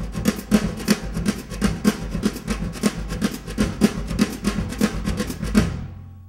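Drum brush pattern at full speed, rapid swishes and soft taps in an even, driving rhythm, close and continuous for about six seconds before stopping.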